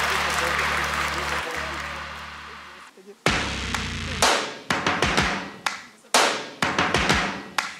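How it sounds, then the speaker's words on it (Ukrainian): Audience at a school battle stage show applauding young performers, a burst of clapping after music cuts off, followed by several sharp thumps and slams from the stage, close and loud. "Підтримайте оплесками цих юних артистів!"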